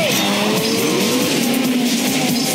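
Race cars revving and launching at the start of a street race, with engines roaring loudly and continuously and tires squealing throughout.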